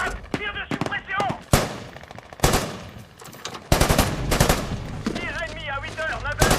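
Machine gun fire crackles through a French war film battle scene, rapid bursts of gunshots and fusillades in loud clusters, mixed with shouted voices between volleys.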